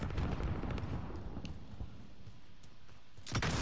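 A grenade blast in Call of Duty Modern Warfare during a hardcore multiplayer match: a loud low rumble that carries on through most of the moment, then a second sharp burst near the end.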